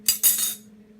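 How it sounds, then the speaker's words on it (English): Potatoes being peeled by hand, with two quick, close scraping strokes of the blade, the second longer, fading out afterward; no talking. "while the oven's heating up, we're going to peel these potatoes"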